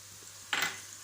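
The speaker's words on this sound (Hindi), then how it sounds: "इनको तब तक भूनते हैं जब तक ये अच्छे से मैश ना हो जाए" Tomatoes with garlic-ginger paste and spicy masala for a tanday chicken gravy hitting a hot pan, a short soft sizzle that flares up halfway through, then fades against a quiet background.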